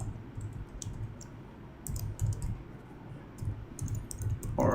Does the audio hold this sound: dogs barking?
no